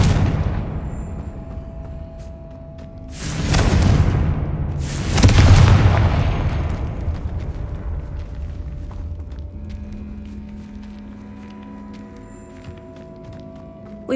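Two heavy booming blasts from the Confringo blasting spell in the Hogwarts Legacy video game, a couple of seconds apart, each followed by a long rumbling decay over a low ambient hum.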